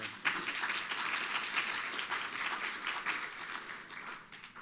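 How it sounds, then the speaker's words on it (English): Following a panel talk on urban water management, an audience gives a round of applause to four panelists, a steady, fairly soft wash of clapping from many hands that carries on throughout. "let's give them another round of applause for all 4 of our"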